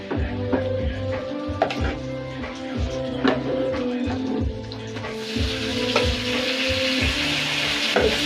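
Omena, small silver cyprinid fish, fry crisply in a pan with tomatoes, a steady close sizzle broken by rhythmic scraping and stirring strokes, growing brighter and hissier in the last few seconds.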